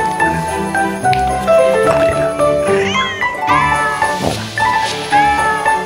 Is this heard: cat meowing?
yes